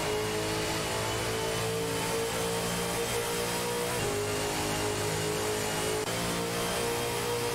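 Racing car engines in a video game race with a Holden Commodore ZB and a Ford Mustang, a dense, continuous roar of several engines held at steady high revs with no speech.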